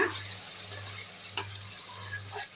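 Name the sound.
stirring garlic pickle in oil in a pan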